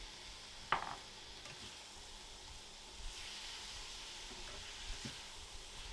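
Beef and green peppers being stirred in a sizzling pan, a soft continuous hiss with occasional scrapes and light knocks of the spoon.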